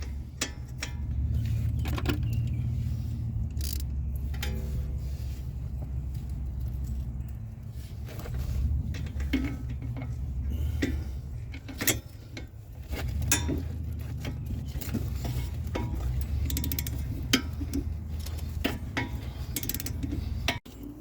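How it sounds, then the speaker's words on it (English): Metallic clanks, ratcheting and tool clicks while a wrench removes a 17mm strut bolt on a Mazda 3 during transmission removal, scattered sharp knocks over a low workshop hum, no talk. "Get your strut bolt out. 17."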